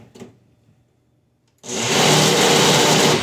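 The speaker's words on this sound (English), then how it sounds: "now I mix it" An electric mixer starts abruptly after a few faint knocks and quiet moments, then runs with a loud, steady whirring roar to the end.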